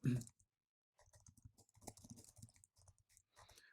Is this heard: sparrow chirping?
no